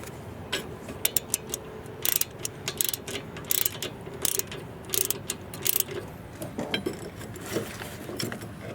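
A wrench ratchets the rear brake caliper bolts tight on a Lexus UX, rapid bursts of close metallic ratchet clicks and clacks with brief pauses between them, no speech.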